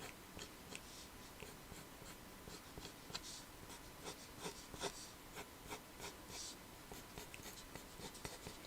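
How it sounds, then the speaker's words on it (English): Quick pencil sketching on paper for a purple dragon drawing, heard as a steady run of fast, light scratchy strokes and small rubbing ticks, close up and faint, with no talking. "Super quick sketching."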